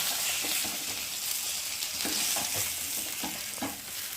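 Fish pieces frying in hot oil in a pan give a steady, loud sizzle throughout, with occasional stirring or turning scrapes, and no talking.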